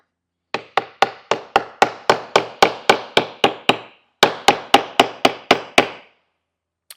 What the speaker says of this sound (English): I'm going to tap evenly along this top edge to fully set this into the top